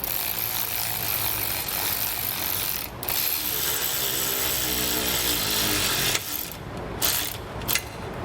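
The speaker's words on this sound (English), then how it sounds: "we'll just take an 8mm and tighten this down" A hand ratchet tightens an 8mm bolt on a trailer wiring bracket, giving a continuous close-up clicking of the pawl with brief pauses near the end.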